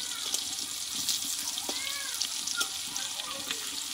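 Kofta balls frying in oil in a pan, a faint steady sizzle with light crackles and a few soft clinks, heard from a little distance.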